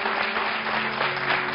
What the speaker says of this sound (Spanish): Porque este aplauso ha traído la verdad a este plató